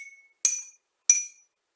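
Water-filled drinking glasses, tuned as musical glasses, are struck in turn: two bright, clear clinks about half a second apart, each ringing out briefly and alone, after the fading tail of an earlier note.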